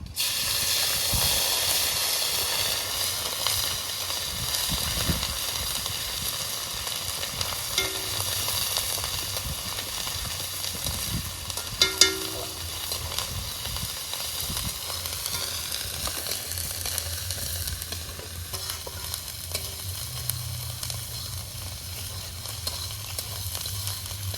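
Ginger garlic paste sizzles in hot oil in a pan at an outdoor picnic cookout, a continuous close hiss and crackle throughout with occasional faint clinks and stirring.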